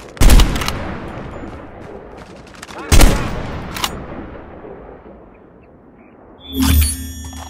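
Sniper rifle fire in the mobile shooter Call of Duty Mobile: two sharp, loud single shots a few seconds apart with decaying tails, then a brief game sound effect at the end.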